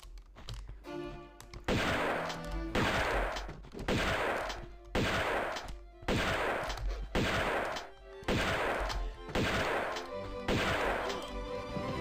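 Repeated bursts of gunfire from a boss in Tomb Raider, loud rapid volleys roughly once a second over a steady game backdrop, with no talking.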